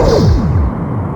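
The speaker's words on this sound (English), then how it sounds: "Torpedo away." A torpedo launched in Star Trek: A Final Unity, heard as a loud, close whooshing sweep with a falling tone that fades into a rumbling tail within about a second.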